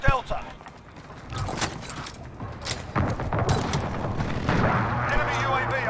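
Precision airstrike explosions in the Call of Duty: Modern Warfare video game, with a chaotic mix of booms, crackling gunfire and rumbling blasts that builds in density and loudness, heavy and close.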